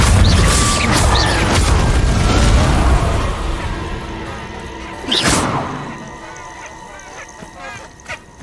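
Confringo fire spell from Hogwarts Legacy on PC, a loud sustained burst of rumbling blast noise for about three seconds, then a second sharp explosive crack that decays, with small scattered impacts trailing after.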